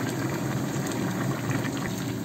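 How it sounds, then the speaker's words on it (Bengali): Heated water pours into a pot of rice and lentils for vegetable khichuri, a dense, continuous splashing gush heard up close. "এবার গরম করে নেওয়া পানিটাকে দিয়ে দেবো"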